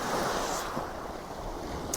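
Sea waves rolling in at the seaside under moody cloud, a continuous soft wash of surf mixed with wind buffeting the microphone, fairly faint and steady with no voices.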